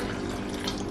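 Half a cup of vinegar is poured into a homemade all-purpose cleaning liquid, giving a brief, close, steady splashing trickle of liquid with no talk.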